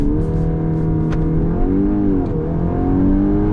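A VW Golf R Mk 8.5 with 328 horsepower and a 7-speed dual-clutch gearbox accelerates hard. A loud, close engine note climbs steadily, with a brief dip mid-run as it shifts.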